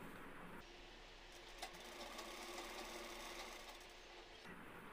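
Sewing machine running steadily for about four seconds as it stitches the seat seam of men's trousers, a continuous close, even whirring hum with a brief start and stop at the edges.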